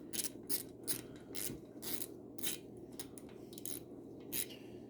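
Ratchet wrench tightening the top and bottom fork clamp bolts on a YZ250 dirt bike, quick bursts of close, clicking pawl strokes in short repeated runs.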